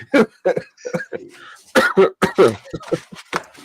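A man coughing repeatedly in short, harsh bursts, close and loud, with a few brief pauses between the fits.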